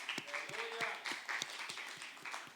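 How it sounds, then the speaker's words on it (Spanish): Church congregation claps in a loose, uneven patter of individual hand claps, fairly close, with a voice or sustained tone faintly running underneath. "Dale un aplauso al Señor, claro que sí."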